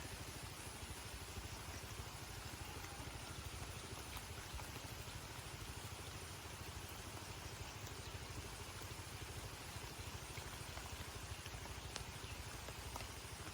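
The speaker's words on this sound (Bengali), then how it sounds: "বৃষ্টি হইতেছে, পানিও বাড়তেছে।" Steady rain falls over a canal area where jute stalks are soaking, a faint, even hiss that runs unbroken throughout with no talking.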